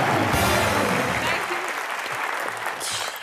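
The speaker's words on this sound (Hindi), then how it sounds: "एक बार जोरदार तालियां दीपिका पादुकोण के लिए" Studio audience at a Hindi TV comedy show clapping loudly for Deepika Padukone, a dense burst of applause that thins out toward the end, with voices mixed in.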